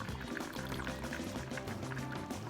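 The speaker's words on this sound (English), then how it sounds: "Then I add the water, cornstarch water, to the beans." Cornstarch water is poured into a pot of field peas and snaps, a soft, steady liquid pour and trickle heard quietly and close up, with no talking.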